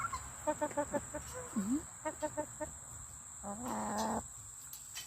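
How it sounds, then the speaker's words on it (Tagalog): Chickens clucking at a farm, short bursts of repeated clucks and a brief squawk close by, with a high steady insect-like whine running underneath. "May chicken doon. Ayan mga manok ni ano guys."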